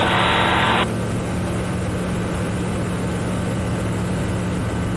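Slepcev Storch light aircraft flying low over a river, its engine a steady, loud drone with a strong low hum held evenly throughout, opening with a brief burst of higher wind noise.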